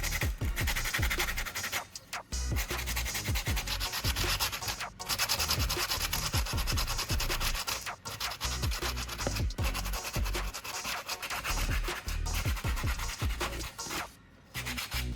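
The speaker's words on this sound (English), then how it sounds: "Use some sandpaper to gently rub off any leftover glue." Sandpaper rubbing leftover old glue off a shoe, close and loud repeated scratchy strokes in an uneven back-and-forth rhythm with a few brief pauses.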